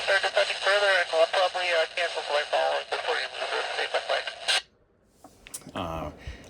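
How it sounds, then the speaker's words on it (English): A GMRS handheld radio plays back a received voice transmission, loud and somewhat compressed, for about four and a half seconds, then cuts off to near silence before a brief burst of squelch noise and a faint voice return. "It's kind of hard to hear, but part of that's just listening to a radio on a camera."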